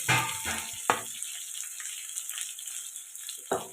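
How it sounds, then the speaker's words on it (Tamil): Onions and green chillies sauté in a pan for semiya upma, a soft frying hiss under a few louder scraping stirs near the start and end. "இதையும் இதோட சேர்த்து வதக்கலாம். வெங்காயம் இந்த அளவுக்கு வதக்குவாங்க."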